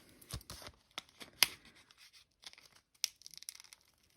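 Paper card envelope torn open by hand, a few sharp ripping bursts with crinkling in between, close and fairly quiet, no talk.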